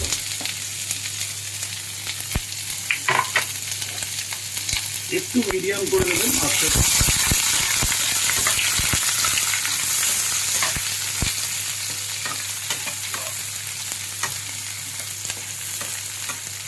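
Onion and green chili fry in a pan with a steady sizzle and occasional stirring scrapes, a louder hiss surging partway through, while a person talks softly over it.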